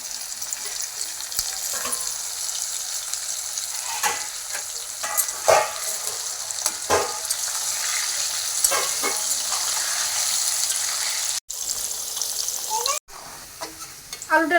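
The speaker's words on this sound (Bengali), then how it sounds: "আলুটা লাল লাল করে ভেজে নিলাম" Potatoes fry in hot oil with a continuous loud sizzle, broken by scraping stirs and two brief cutoffs, while a dog barks somewhere in the background.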